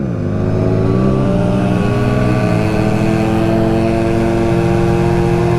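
A Honda Motocompo mini motorbike's small engine runs flat out at full throttle, a steady, loud, continuous drone that shifts pitch slightly as it holds maximum speed, close and alone.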